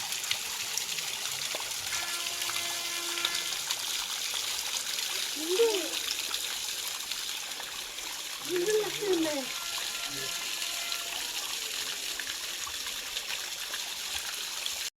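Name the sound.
water flowing at a small waterfall stream, Srisailam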